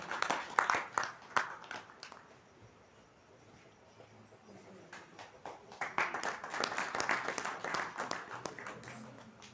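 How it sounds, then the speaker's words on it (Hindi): Audience clapping at a Vedic religious gathering: bursts of claps at the start that fade, then swelling sustained applause in the second half, somewhat distant in a large hall. "तालियां बजाएं।"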